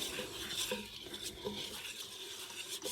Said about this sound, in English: So I'm just gonna kind of give this a stir.